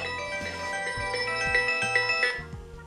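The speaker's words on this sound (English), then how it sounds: "Got it, your Pixel 2 XL should be ringing now." A Pixel 2 XL phone plays its ringtone, set off remotely by a Google Home Mini: a steady, close melodic ring with repeating tonal pulses and no talking.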